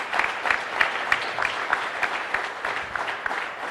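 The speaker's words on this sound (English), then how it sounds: "give a big round of applause for us" A steady round of applause from the audience at a panel discussion with young MPs at a national summit in New Delhi, dense continuous clapping at even loudness.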